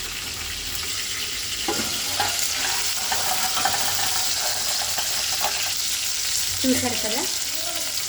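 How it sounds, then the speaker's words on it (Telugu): Stuffed brinjals for Andhra-style gutti vankaya curry sizzle and crackle steadily in oil in a pan, with a continuous hiss and a few louder pops; a voice speaks briefly over it. "ఇలా మంచిగా ఫ్రై చేసుకుందాం."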